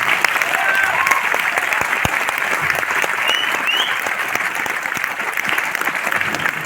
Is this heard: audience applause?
yes